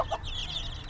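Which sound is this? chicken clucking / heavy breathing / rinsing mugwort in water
chicken clucking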